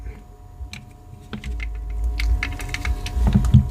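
Trigger of a half-scale miniature HK USP toy pistol clicking, giving a few light, hollow plastic clicks close up among faint handling noise.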